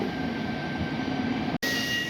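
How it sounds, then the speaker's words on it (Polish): A train arrives at Tarnów station in Poland, rumbling nearby with a steady low drone and a thin sustained tone, briefly cutting out for a moment. "Odjeżdża Potomowica i nadjeżdża pociąg"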